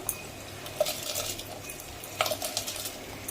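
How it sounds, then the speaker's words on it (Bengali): Soaked, washed rice is tipped into boiling spiced water for chicken biryani and stirred, with two sharp metallic scrapes of a spoon against the pot over a soft bubbling hiss. "এবার এটার মধ্যে আমি যে চালটা দিয়ে দিচ্ছি।"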